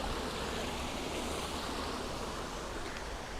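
Water flowing down from a waterfall in Yosemite National Park, a steady broadband rushing roar, continuous and fairly close, with no voices.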